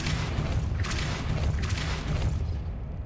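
Depulso spell cast in the video game Hogwarts Legacy: a loud, continuous booming rumble with several whooshing bursts layered over it, steady and heavy for about three seconds.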